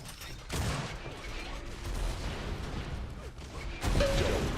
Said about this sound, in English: Matt pushing in with these rockets